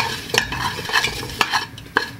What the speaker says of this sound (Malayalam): ശരിക്ക് ഒന്ന് ഇളക്കി കൊടുക്കാം.